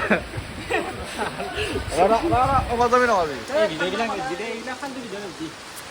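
Rain patters steadily in the background while a couple of voices talk and laugh up close over it.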